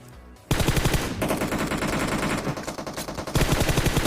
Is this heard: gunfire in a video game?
yes